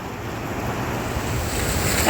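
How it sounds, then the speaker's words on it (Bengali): Sea waves surge steadily onto a beach, a continuous broad wash of surf with wind buffeting the microphone, swelling slightly louder toward the end. "এই যে একটা বড় ঢেউ আসছে"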